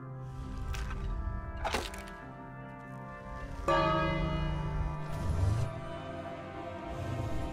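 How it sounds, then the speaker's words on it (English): A bell rings in King's Quest with several metallic clangs and ringing resonant tones over about seven seconds, each strike leaving a long humming decay, and no talking over it. "And then you ring the bell, right?"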